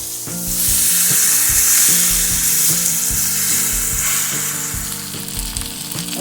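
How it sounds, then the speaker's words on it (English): Flour-coated liver pieces fry in oil in a pan, a loud, steady sizzle with scraping and clinks from turning the pieces, close up and without voices. "now we're going to flip them over and get all of the flour cooked onto the liver"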